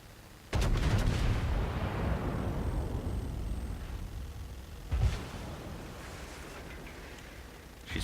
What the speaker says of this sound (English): Sync your guns up.